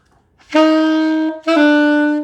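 Two saxophone notes on C with a brief gap, each starting with a slightly smeared, uneven attack from tonguing mistimed with the fingering, the pitch shifting just after it begins.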